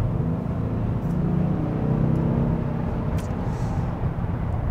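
A 2021 Audi S6 with a 2.9-liter turbo engine and a sound generator is driven at night. Its engine gives a steady, loud, deep rumble heard from inside the car.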